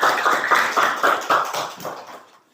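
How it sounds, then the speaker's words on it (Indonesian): A group of students in an Islamic religious education classroom claps in a quick, steady rhythm of about nine even bursts, then fades out. "tepuk tangan untuk kelompok Utsman bin Affan"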